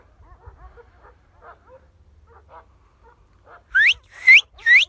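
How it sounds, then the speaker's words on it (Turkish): Three loud, sharp dog barks in quick succession near the end, after a stretch of faint, scattered sounds, from a pack of dogs near an Akbaş dog. "orada da bir sürü köpek var."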